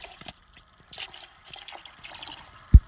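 Cold number 1 diesel fuel poured at -30 degrees, a faint, thin trickling and dribbling with scattered soft splashes, ending in one short louder thump.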